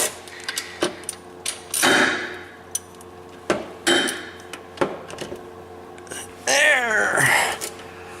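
A wrench turns a bolt on a Mazda Miata, giving sharp metallic clicks and clinks, scraping ratchet passes and a couple of longer grinding turns, close and uneven in rhythm.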